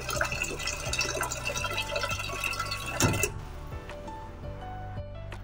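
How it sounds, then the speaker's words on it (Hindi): Water poured from a glass into a pot of moong dal before pressure cooking, a soft trickling fill with a few light clinks, fairly quiet and close, ending in a brief splash. "तो मैं इसमें पानी डाल दूंगी अंदाजे से, तीन गिलास डाल देंगे।"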